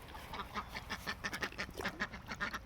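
Ducks on a garden duck pond quacking in a quick, uneven series of nasal calls, fairly close but soft, with a faint background hum and no talking.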